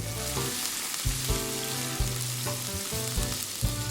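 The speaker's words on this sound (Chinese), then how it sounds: "快速翻炒至发白" Minced pork hisses loudly in a hot wok as it is tossed quickly for spring roll filling, continuous sizzling broken by repeated rhythmic clanks and scrapes of the spatula against the metal.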